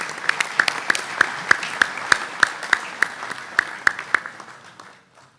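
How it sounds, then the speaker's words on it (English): Applause from delegates at the IIHF Annual Congress in Tampere, 2023: a small room of people clapping in scattered, distinct claps over about five seconds before tapering to silence. "I suggest that we give a round of applause to our new persons in the room."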